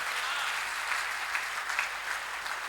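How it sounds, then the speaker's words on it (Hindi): An audience at a Hindi comedy poetry gathering breaks into sustained applause, a dense, even wash of clapping that carries on steadily throughout. "एक बार तालियां बजा सकते हैं जोरदार"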